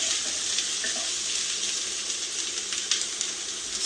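Meat added to fried onions in a pan, with a steady, dense sizzle throughout, close and even, with no talking.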